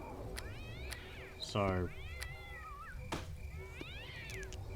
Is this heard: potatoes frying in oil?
no